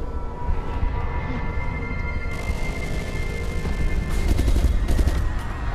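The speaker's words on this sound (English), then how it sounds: "That guy's shooting the ceiling." Sustained bursts of automatic gunfire ring out in Resident Evil Revelations 2, loud and continuous with rapid overlapping shots throughout, heavier toward the end, with no talking.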